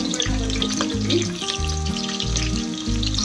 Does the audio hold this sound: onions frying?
yes